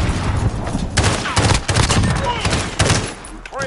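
Video game gunfire crackles in rapid bursts and single shots, loud and close, with scattered voices of players talking over it.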